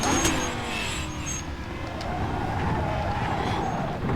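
Lamborghini Huracan GT3 engine in a sim racing game, a steady loud drone held at high revs throughout, with a faint rising tone underneath.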